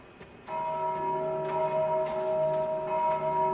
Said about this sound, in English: Every time that bell rings, it calls them.